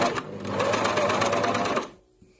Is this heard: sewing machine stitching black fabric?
yes